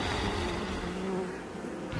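Bees swarm from a beehive stuffed inside a giant's helmet in a fantasy film scene, giving a steady dense buzzing drone that holds throughout with no voices over it.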